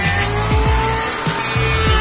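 A Doliz BA126 electric wood planer spinning at 16,500 RPM gives a steady high whine that repeatedly sags and recovers in pitch as it shaves wood 1.5 mm deep, close and loud with no talk.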